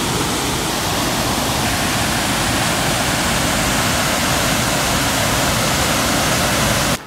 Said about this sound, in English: We are here at Brownstone Falls.